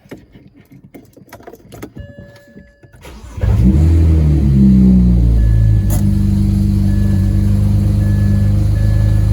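A BMW 335i with its mufflers cut off. Keys jangle, then the engine cranks and catches at once, settling into a loud, close, raspy idle that holds steady.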